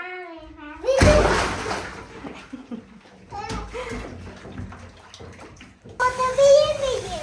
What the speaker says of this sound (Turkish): Suyun biraz daha dolsun mu?